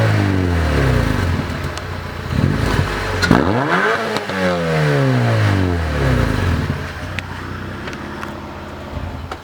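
Honda Prelude with a B21 engine revving hard through its exhaust, rising and falling pitch sweeps repeating over several seconds, loud and close with a clattery edge.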